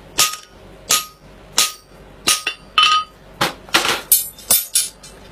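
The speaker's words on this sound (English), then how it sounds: "And on with the guide fuller, paying huge attention to keeping it at 90 degrees to my anvil." A hammer strikes a guide fuller held upright on a blacksmith's anvil, giving about a dozen sharp, ringing metallic blows in a steady rhythm, close and loud, with no talk.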